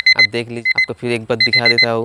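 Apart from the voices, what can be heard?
alarm clock ringing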